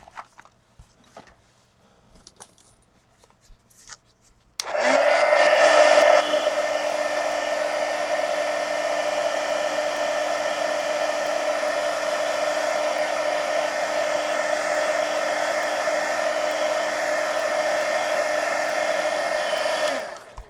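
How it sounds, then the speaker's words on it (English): A heat gun drying a mixed media art journal page switches on after a few seconds of quiet handling noise. It then blows with a loud, steady whooshing roar that continues to the end. "Let me hit this with the heat gun."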